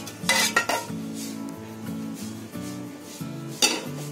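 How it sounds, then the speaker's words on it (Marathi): In a home kitchen, an iron tava griddle is set down on a gas stove. Sharp metallic clanks and scrapes ring out near the start and again near the end, with quieter handling noises between them and no talking. "जा गॅसवर तवा ठेव"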